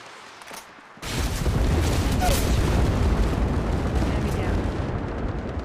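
Sustained gunfire from a first-person firefight in Apex Legends Mobile, a dense, loud burst of rapid shots and booming impacts that starts abruptly after a short quiet moment and continues, with a brief voice line spoken over it.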